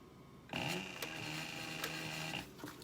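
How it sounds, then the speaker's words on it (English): A sewing machine stitches a planner cover in one steady run of about two seconds, a close mechanical whir with a faint rhythmic ticking, starting abruptly and stopping cleanly, with no voices. "and start sewing."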